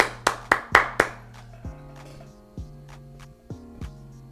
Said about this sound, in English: Y'all clap it up for her, man.